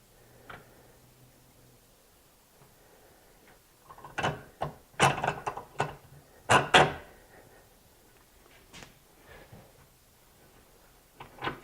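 A bench vise is cranked down to crush the sleeve of a ring terminal, giving scattered close metallic clicks and ratcheting clunks that cluster in the middle, with quiet gaps between.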